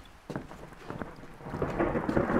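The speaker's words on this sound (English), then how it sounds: "Thunder outside." Thunder rumbles outside in a horror video game, a low, rolling roar that builds under patter of rain with a few sharp crackles, moderately distant and growing louder.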